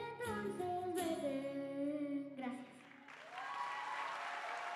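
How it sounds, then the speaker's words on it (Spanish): An audience breaks into applause for singer Pía Vera at a children's and teens' singing workshop concert, a broad wash of clapping that rises right after a sung melody ends and carries on steadily. "Fuerte los aplausos para Pía Vera"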